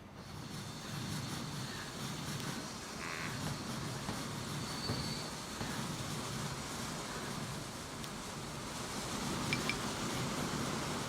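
A simulated train runs steadily in the video game Transport Fever 2, a low continuous rumble of rolling wheels with faint squeals, fairly quiet and unbroken, no voices.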